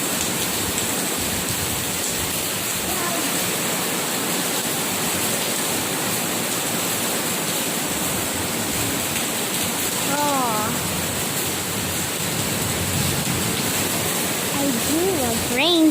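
Heavy rain pours outdoors during a storm, a loud, constant hiss that fills the whole stretch, and someone talks briefly over it in places.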